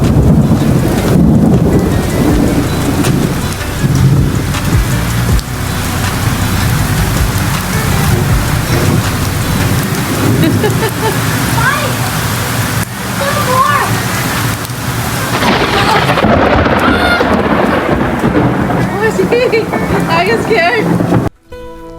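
A hailstorm with heavy rain and thunder pounds down in a backyard garden, dense loud drumming of hail and rain with deep rolling thunder, and voices talking over the storm.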